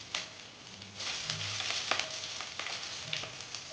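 Bay leaf and slit green chillies fry in hot oil, giving a soft, continuous sizzle with crackling pops and occasional stirring scrapes, fairly close and quiet with no voices.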